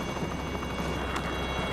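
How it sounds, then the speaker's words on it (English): A helicopter hovers close above a balloonist's craft, its rotor and engine making a dense, steady roar that stays loud throughout the short stretch. "get the helicopter away"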